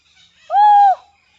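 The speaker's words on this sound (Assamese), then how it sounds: "চৰাই মাত শুনিছেনে? ইমান ধুনীয়া চৰাইবোৰ মাত" A single clear bird call in a forest, a smooth sustained whistle-like note lasting about half a second, heard alone against quiet.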